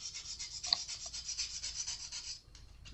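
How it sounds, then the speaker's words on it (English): Very light sandpaper rubbed over a Stratocaster guitar neck during fret levelling, a quiet, close, continuous hissing scrape in short back-and-forth strokes, with no talk. "We take some really light sandpaper and we go first across this way, and then this way"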